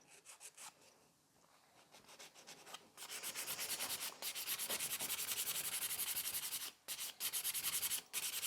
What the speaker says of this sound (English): And I'm using 180 by 100 grit.